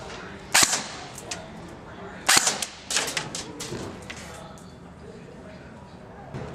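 A Classic Army Skirmish airsoft rifle, a prototype model, fires two sharp snapping shots about two seconds apart, followed by quieter clicks and rattles, with faint room noise between.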